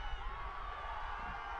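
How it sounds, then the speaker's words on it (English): Lacrosse crowd stirring during a hard-fought faceoff battle for the ball: a steady, diffuse murmur of many voices with faint cheers rising, continuous for a moment with no single standout shout. "the crowd getting into it as well"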